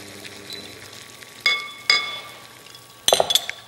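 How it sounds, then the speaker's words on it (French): Boiled eggs being set into a bowl of cold water, giving three separate sharp clinks against the bowl, the last a quick double knock, over a quiet background hiss. "Je vais les placer dans un saladier d'eau froide afin qu'ils refroidissent"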